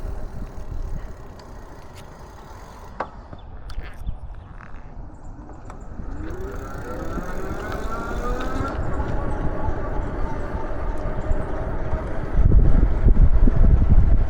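Breezy wind buffets the microphone during an e-bike ride, a steady low rumble that grows stronger toward the end, with faint traffic passing in the background.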